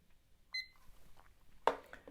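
A kitchen-style countdown timer set for two minutes gives a brief, faint electronic beep with a quick tone, followed later by a short sharper click in a quiet room.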